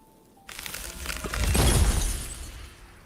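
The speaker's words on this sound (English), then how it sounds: "At the sound of something shattering" Ice shatters in the video game Love and Deepspace as a frozen viper breaks apart, a loud crashing burst of cracking and tinkling debris that swells and then fades.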